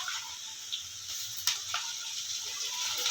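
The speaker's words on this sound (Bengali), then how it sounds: "এবার আমার মা মশলা অ্যাড করবে এর মধ্যে দিচ্ছে আদা রসুনের পেস্ট" Ginger garlic paste fries with browned onions in a pan, a faint, airy sizzle with scattered small crackles and pops throughout.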